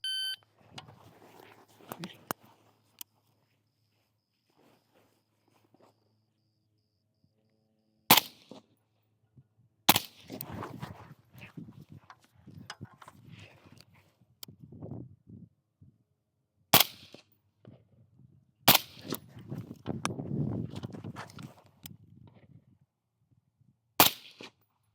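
Several sharp gunshots from precision shooting drills at targets, single reports spaced irregularly across a quiet outdoor range, loud and close, with quiet movement and handling between shots.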